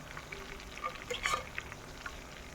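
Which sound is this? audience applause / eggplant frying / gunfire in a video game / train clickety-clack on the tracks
eggplant frying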